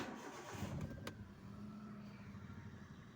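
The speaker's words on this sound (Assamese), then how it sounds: "মই আপোনালোকক ইঞ্জিনটো একেবাৰে ষ্টাৰ্ট কৰি দেখুৱাই আছোঁ" A second-hand Hyundai Eon car engine cranks and catches, then settles into a quiet, steady idle, faint and close.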